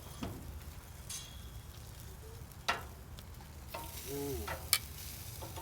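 Chipotle-marinated pork sizzling in a frying pan, a soft, low crackle with a few sharper pops and the clatter of pieces being turned, and one brief exclamation.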